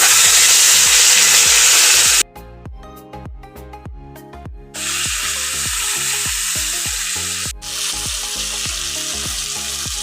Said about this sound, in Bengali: মাছ ভাজা আমার হয়ে গেছে, লাল করে ভেজে নিয়েছি